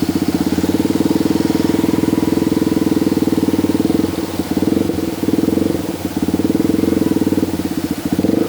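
A Yamaha WR155 motorcycle engine revs up and accelerates from a traffic light, a loud, steady close-up rumble with slight dips and rises as it pulls away, no talking over it.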